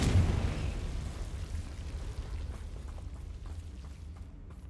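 A Confringo or Bombarda spell explodes in a Harry Potter video game as a deep, booming blast. Its rumble rolls out and slowly fades over a few seconds.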